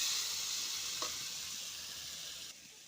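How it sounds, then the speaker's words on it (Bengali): A potato and soybean curry sizzles in a pan, a continuous close hiss of frying with a single light stirring knock partway through, fading slightly near the end. "আমি রান্না করতেছি দুপুরের লেগে আলু দিয়ে সয়াবিন দিয়ে এক তরকারি"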